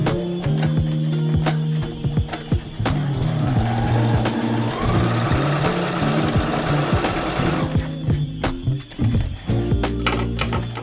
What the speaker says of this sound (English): I'm going to go ahead now and stretch and sew right along this top edge of the elastic and the skirt.